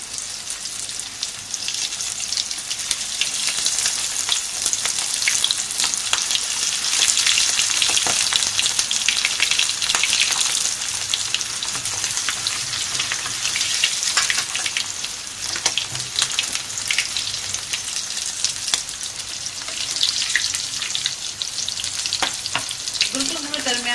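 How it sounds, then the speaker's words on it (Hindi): Mutton chops coated in gram flour frying in hot oil, a loud, dense, continuous crackle and sizzle like heavy rain, with a few scrapes near the end. "अब इसे हम फ्राई करेंगे। तेल हमने पहले ही गर्म करने रख दिया है।"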